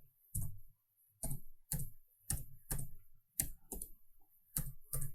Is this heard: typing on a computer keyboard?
yes